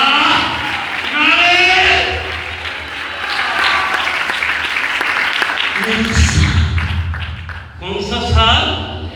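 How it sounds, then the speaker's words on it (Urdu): A church congregation claps loudly at a New Year service, dense sustained applause with cheering voices mixed in and a brief lull before the clapping swells again. "زوردار تالیاں بجائیں."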